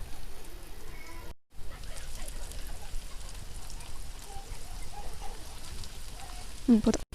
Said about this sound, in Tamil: பாருங்கள், அது பொரிஞ்சு வருது.